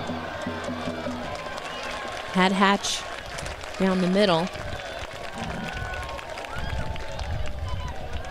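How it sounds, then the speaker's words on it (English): A stadium crowd at a 2022 NWSL women's soccer match between Washington Spirit and Racing Louisville keeps up a continuous roar and murmur, rising slightly near the end, under a commentator's talk. "And you hear the crowd. They like that."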